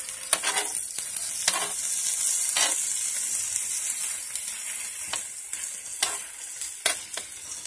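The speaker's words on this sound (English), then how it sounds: "I put a little bit of bean sauce oil to it." Bean sauce oil sizzles in a pan while Chinese broccoli is being readied, a steady close hiss broken by sharp spatula scrapes and clacks every second or so, with no talking over it.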